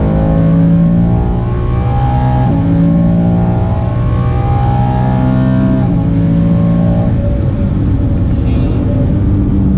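A 2018-2019 Mustang GT with a Palm Beach Dyno tune and intake accelerating hard, its loud V8 roar climbing through the revs with sharp shifts breaking the rise, captured close from inside the car.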